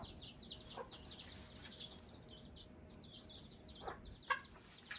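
Quiet, scattered clucks and soft chirpy calls from a few hens, with a couple of sharper squawks near the end over a low background hiss.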